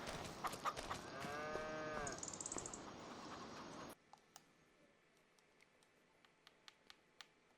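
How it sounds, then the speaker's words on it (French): Cattle on a farm in a farming simulation game give a long, clear moo over ambient farm noise, then the scene drops to near silence broken by scattered faint ticks. "Je vais aller m'occuper des vaches."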